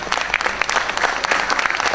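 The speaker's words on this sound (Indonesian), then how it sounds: "Tepuk tangannya." Audience applause fills a hall at a Cairo cultural gathering marking Gus Dur's haul, a steady, dense clapping from many hands that holds loud and continuous throughout.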